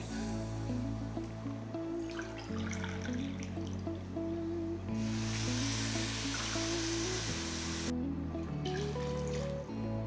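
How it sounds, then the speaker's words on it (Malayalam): Hot water poured into a pot of rice while cooking mutton biryani, a soft trickling pour that swells into a steady gush midway, half-buried beneath continuous background music. "അപ്പോൾ 6 കപ്പ് വെള്ളം ചേർക്കാം."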